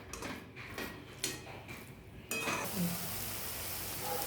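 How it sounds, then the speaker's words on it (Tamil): Paneer frying in a pan crackles softly while a spoon stirs it in a few uneven scrapes, and then the sizzle grows louder and stays steady. "பன்னீர் ஆட் பண்ணிவிட்டு நீங்கள் அதை உடைக்காமல் கிளறுங்க."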